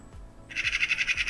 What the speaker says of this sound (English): I heard a bird.